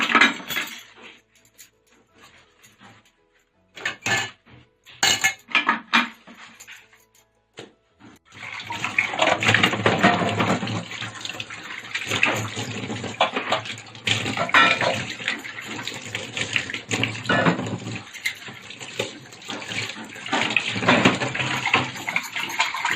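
Dishes and cooking vessels washed under running water in a home kitchen sink, with a steady splashing tap stream and occasional clinks; it starts with sparse knocks, then the water runs continuously and loud, close by.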